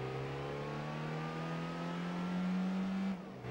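A Volkswagen Beetle in Gran Turismo 3 accelerates with a steady, rising engine drone that climbs in pitch through a gear, then abruptly drops at a shift near the end; moderately loud, no talking.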